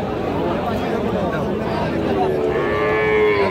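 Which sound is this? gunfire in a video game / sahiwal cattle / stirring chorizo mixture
sahiwal cattle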